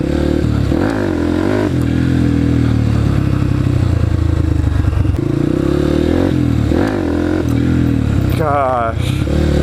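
A dirt bike engine revs hard and without a break during wheelie attempts, loud and close, with rising and falling throttle and some clattering.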